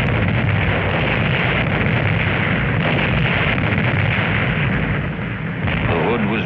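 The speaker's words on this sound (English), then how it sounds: "The Hood was rent in twain by a mighty explosion" A loud, rumbling blast of sustained thunderous noise, the explosion of the battlecruiser HMS Hood at sea, like heavy explosions or shellfire, filling the whole stretch with dense low roar.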